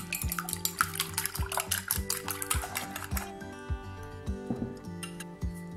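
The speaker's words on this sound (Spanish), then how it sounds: "Batimos un poco." Two eggs being beaten in a bowl for zucchini fritters: quick rhythmic clinks of a utensil against the bowl, close and steady, slowing toward the end over faint background music.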